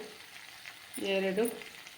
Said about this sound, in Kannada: ಇದಕ್ಕೆ ಇವಾಗ ಸೋಯಾ ಸಾಸ್ ಹಾಕ್ಕೊತಾ ಇದ್ದೀನಿ.